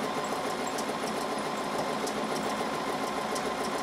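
A sewing machine runs steadily for free-motion quilting, close up, with a fast continuous mechanical whir and no talk.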